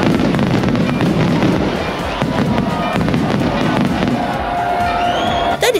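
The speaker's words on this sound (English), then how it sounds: "Once he's back in the church, there are a few more fireworks." Fireworks crackle and pop through a Sitges Festa Major night celebration for Sant Bartomeu in a town square, loud and continuous over a noisy crowd, with a brief whistling rise near the end.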